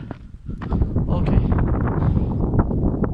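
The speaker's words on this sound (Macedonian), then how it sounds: "Ама ветер може да ме бутне доле" Strong mountain wind roars and buffets steadily on a hike in a loud, low rumble that barely lets up.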